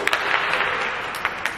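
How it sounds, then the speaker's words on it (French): A class of young pupils applauds together, a dense patter of many small hands clapping steadily and fairly close, with a few sharper claps standing out and no talking. "On applaudit!"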